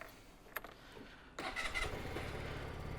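A Sym Symphony SR 125 scooter starts up: a brief starter whir, then the small 125cc engine catches and settles into a steady close idle, loud and alone.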